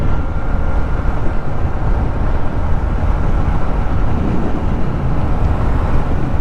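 A 2023 Honda CB125F motorbike rides down a narrow country road, its engine a steady close drone buried under heavy, constant wind rush across the microphone, with no talking.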